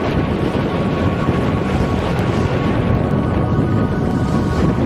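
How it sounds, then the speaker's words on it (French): Strong, continuous wind roar of about 7 knots buffeting a sailboat under way, with rushing water noise underneath and no voices. "Le vent s'est levé, c'est ce qu'il faut à la grosse barque"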